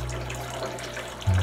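Municipal tap water running steadily from a faucet, a continuous hiss of flow that grows slightly louder near the end, close by with no voices.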